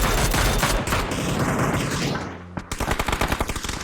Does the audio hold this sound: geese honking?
no